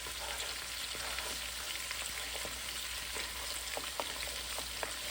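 Beef neck bones sear in a hot pan on the stove, giving a steady close sizzle and crackle with scattered sharp pops and spits throughout.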